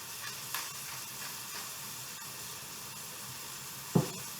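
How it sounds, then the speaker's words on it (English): Meat mixture sizzling in a very hot frying pan, a steady broadband hiss running throughout at low level, with a couple of brief clicks and one sharper knock near the end. "I took that meat mixture I just made and I got my pan really hot and I added it to the pan"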